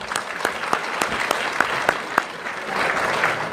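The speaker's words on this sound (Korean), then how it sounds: "자, 박수 해주세요." An audience in a church gathering claps during a sermon, a scattered, moderately near round of applause with distinct individual claps that builds into a denser patter toward the end.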